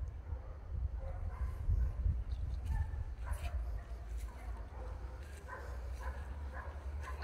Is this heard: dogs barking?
yes